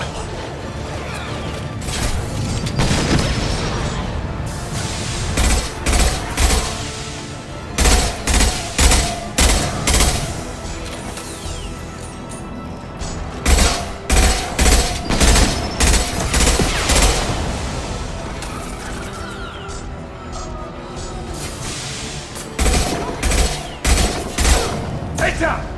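Repeated bursts of rapid automatic gunfire and shots in the video game Mass Effect 2, loud and close, coming in clusters with short pauses between them amid mechanical clatter and background game sounds.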